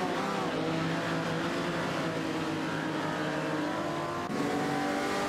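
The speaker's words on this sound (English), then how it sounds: "ST4NBZH is in a Holden Monaro GTS 73, while IRFL is driving a Lamborghini 400 GT." Several race car engines, among them a 1973 Holden Monaro GTS and a Lamborghini 400 GT, droning together in a racing game, a steady layered whine and roar of revving motors with a brief dip near the end.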